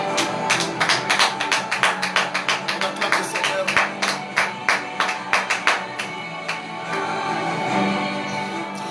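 A church congregation claps in a fast, steady rhythm, sharp loud slaps repeating for several seconds before the beat fades into a blur of scattered applause and murmur.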